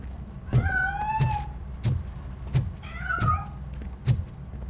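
A cat in the video game RoboCop: Rogue City meows as it escapes, with two drawn-out, wavering calls over a steady pattern of soft, low thumps, close and clear.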